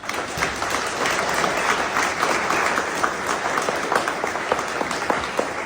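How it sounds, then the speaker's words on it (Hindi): A large audience at a political speech event applauds steadily and thickly, the dense clapping staying loud and even throughout. "सब लोग तालियां बजाएं"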